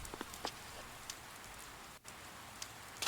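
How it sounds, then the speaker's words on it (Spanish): Heavy rain in the video game Persona 4 Golden, a quiet, steady patter of falling drops with a few louder taps, alone and without talk, briefly cutting out once. "está lloviendo a mares"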